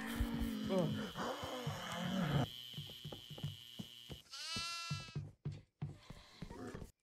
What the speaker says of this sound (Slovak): Mám kozu. Tu pobehuje.